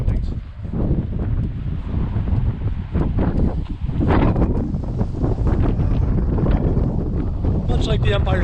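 Wind buffets the microphone high atop Tallinn TV Tower, a loud, steady, rumbling gust noise that fills the whole stretch, with brief dips and surges but no break.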